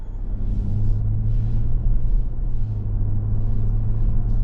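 A 2024 Ford Expedition Max Platinum cruises down the road, giving a continuous low, droning rumble of engine and road noise at even loudness with no talking.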